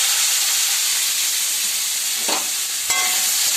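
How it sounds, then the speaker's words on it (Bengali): Loud, continuous sizzling of chili, carrots and potatoes frying in hot oil, close up, with a couple of brief stirring scrapes near the end. "এবারে আমি ওই তেলে লঙ্কা দিয়ে দিলাম, দিয়ে গাজর আলুগুলো সব দিয়ে দেবো"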